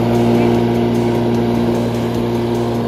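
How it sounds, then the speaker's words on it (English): An electric lawn mower powered from a car's battery runs with a steady, close motor whine and hum, constant in level, with no talk over it. "And then I'm gonna mow the lawn with that."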